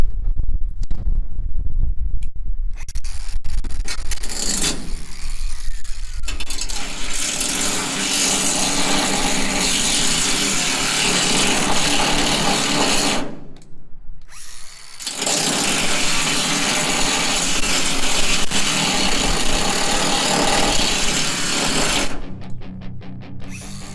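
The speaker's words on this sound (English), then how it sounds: "So we're going to cut the weld off of these" A power tool grinds and cuts through the welds holding the bed sides on a 1971 Chevy C10 truck, a loud, continuous harsh whine that runs for long stretches with two brief pauses, close up and without talk.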